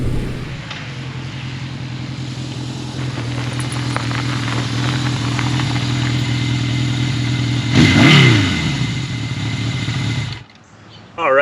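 A Yamaha XS1100 classic motorcycle ridden at speed, its engine a steady loud drone with wind rush, a brief louder swell passing near the end before the sound drops away sharply.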